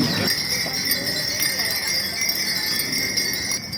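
Many small temple bells tinkle continuously in Ayutthaya, Thailand, with bright, sustained high ringing tones, layered over a busy background of footsteps and faint murmuring.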